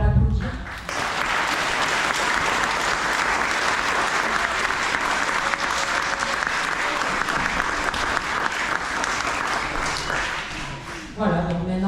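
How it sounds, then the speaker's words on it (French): An audience applauds Nathalie at an outdoor children's event in Saint-André-les-Alpes, a steady, dense wash of clapping that holds for about ten seconds before fading, with a voice surfacing near the end. "Je pense qu'on peut l'applaudir."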